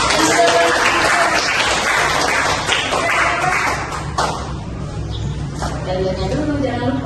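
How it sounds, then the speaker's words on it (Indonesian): A classroom of students claps together for a group about to perform, with lively bright clapping and a teacher's voice talking over it. "Tepuk tangan dulu semuanya."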